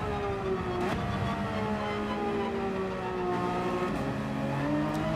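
Race car engine in Gran Turismo 7 at Mount Panorama, droning loud and close with rising pitch, then dropping sharply at upshifts around one and four seconds before climbing again.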